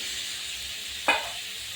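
Bitter gourd frying in a pan with turmeric, a low steady sizzle broken by a single brief scrape of stirring near the middle.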